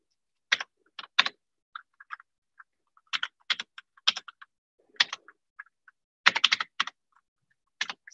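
Typing on a computer keyboard: bursts of quick, crisp key clicks separated by pauses, close and clear against a silent background.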